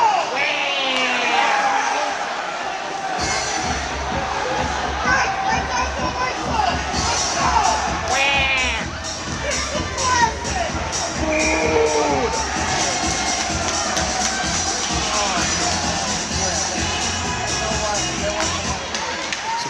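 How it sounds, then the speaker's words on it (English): Spectators at a high school hockey game between Saratoga and Shenendehowa cheer and shout in a loud, sustained burst, with voices rising and overlapping throughout and a commentator talking over the arena noise. "the crowd reacts"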